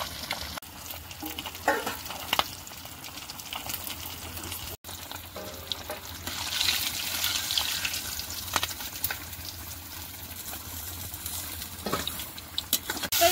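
Fish sizzles and crackles as it fries in oil on a clay stove in a Sundarban village kitchen, a steady close frying hiss with occasional stirring scrapes and sharp pops.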